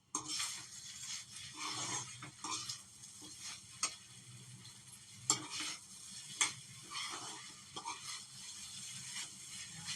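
Paneer pieces frying in a pan for a home recipe: a faint steady sizzle under repeated scraping and stirring strokes, with a few sharp utensil clicks against the pan.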